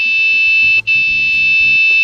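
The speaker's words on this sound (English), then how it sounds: "So when the obstacle is getting closer, like my arms here, so it will sound some alarm there." Piezo buzzer alarm triggered by an ultrasonic sensor as an obstacle approaches: a loud, piercing continuous electronic tone with a brief dropout, over faint background tones.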